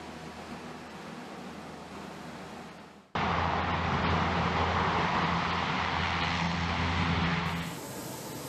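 A US Navy LCAC hovercraft roars along with a heavy, continuous engine and propeller drone that jumps abruptly louder partway through and stays close and powerful to the end.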